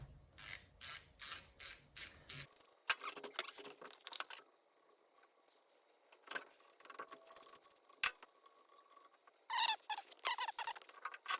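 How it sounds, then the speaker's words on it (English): A ratchet fitted with a 10mm socket works on a 1984 Honda CBX750 motorcycle engine during a starter and sprague clutch repair, giving bursts of rapid, close clicking in short regular strokes, with quieter handling noises and pauses between. "So it's got the 10mm socket here."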